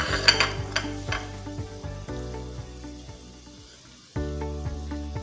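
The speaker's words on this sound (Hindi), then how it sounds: "इसके अंदर मैं प्याज ऐड करूंगी जो हमने फ्राई करने हैं।" Onions sizzle in about half a cup of hot cooking oil in a pan, a steady crackling fry with light utensil clicks and a brief drop before the hiss swells again.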